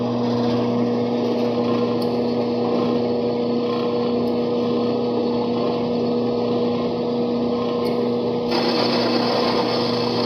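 A roll-in bandsaw runs and cuts through material with a loud, steady mechanical hum and a sustained blade whine, continuous throughout, briefly brightening near the end, with no talking.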